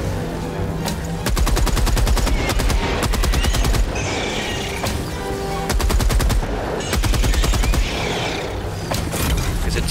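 Video game turret firing in long rapid automatic bursts, loud and close, with short gaps and mechanical whirring between the volleys.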